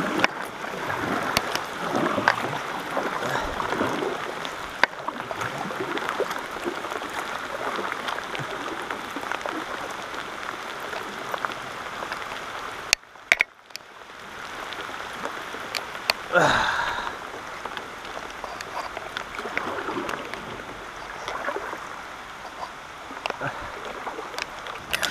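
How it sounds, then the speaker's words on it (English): Heavy rain falling outdoors by a river bridge and boat launch, a dense continuous patter and hiss of drops on water and surfaces, with occasional louder splashes and brief gusty rushes. "that is some wet rain there"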